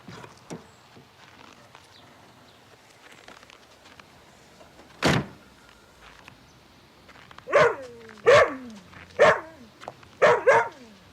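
Jumbo the dog lets out a run of four or five sharp, loud barks close by, following a single thud and a quiet stretch of room noise.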